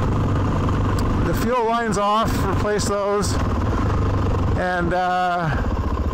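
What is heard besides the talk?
Suzuki DRZ 400 motorcycle engine running after carburetor tuning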